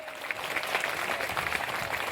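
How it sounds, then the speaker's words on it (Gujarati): An audience at a Hanuman ashram bhandara, a religious feast, welcomes visiting saints with sustained, dense clapping that holds evenly throughout at moderate volume. "એના માટે પણ આપણે તાળીઓ વગાડીએ"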